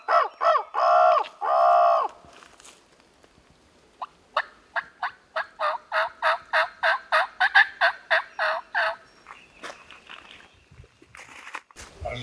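A wild turkey gobbler in Tennessee during a hunt: loud gobbles, then a long rhythmic run of evenly spaced calls, fairly close and carrying over quiet outdoor air.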